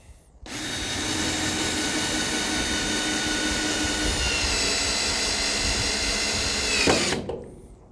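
A cordless drill drives a number 12 structural screw through pre-drilled lumber into a support, a close, loud, steady whine lasting about six seconds before cutting off abruptly.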